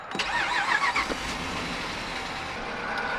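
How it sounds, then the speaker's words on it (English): A Jeep's engine cranks with a short whirring starter burst and then catches, settling into a steady, moderately quiet idle heard close by, with no talking. "We're gonna turn on the car."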